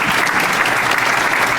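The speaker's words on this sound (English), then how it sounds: "that deserves an applause" Loud, dense applause from a theater groundbreaking crowd, an unbroken wash of many hands clapping close by, with no voices over it.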